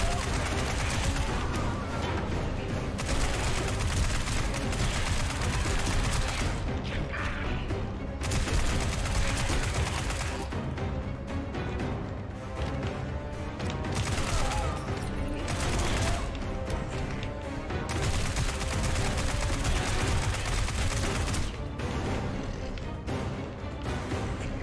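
Sustained gunfire in the dark horror video game Annie Last Hope, a loud, dense run of shots and bursts lasting throughout, with brief lulls and occasional crashing impacts, under faint voice.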